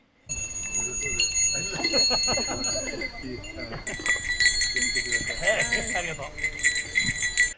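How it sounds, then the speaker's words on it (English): Small bear bells tinkle continuously in a bright, jingling patter on a hiking trail, growing busier partway through, with some murmuring in the background. "Imagine this tinkling for the whole hiking course."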